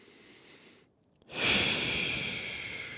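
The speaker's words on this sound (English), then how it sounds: "I'm breathing right into the microphone." Heavy, deep breaths land right on a close microphone during a gentle shoulder-stretching exercise session: a soft breath first, a short pause, then a loud, rushing exhale that stays strong to the end.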